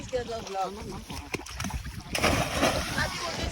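Someone swimming splashes in water, with choppy sloshing bursts and a louder rush of splashing in the second half, close by and with no talking.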